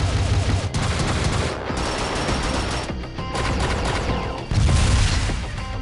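A robot's shoulder cannons fire in a Transformers stop-motion battle, a loud, dense barrage of blasts and explosions rolling on continuously with brief dips between bursts.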